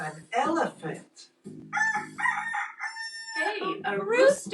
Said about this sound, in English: Hey, a rooster.